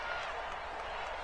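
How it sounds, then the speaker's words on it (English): A college football stadium crowd roars in a steady, distant wash of cheering, with faint clapping mixed in. A commentator talks over it. "the crowd getting into it as we come up on a big third down"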